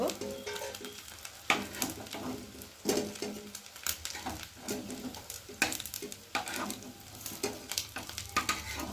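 Fish roe frying in a pan sizzles and crackles steadily up close, with intermittent clatter from turning and stirring and no voices.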